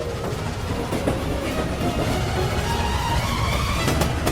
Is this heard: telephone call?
no